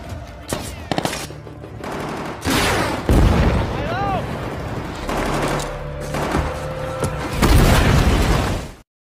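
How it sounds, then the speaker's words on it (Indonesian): Heavy gunfire in a battle scene from the film 12 Strong, with bursts of machine-gun fire, single shots and booming blasts over a rumbling score, loud and dense throughout. "tiba-tiba musuh yang ada di balik tembok langsung menembaki mereka"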